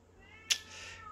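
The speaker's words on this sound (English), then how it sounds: "Excuse the cat in the background." A cat meows once, briefly and fairly clearly, in the background of a quiet room, with a faint hiss trailing after it.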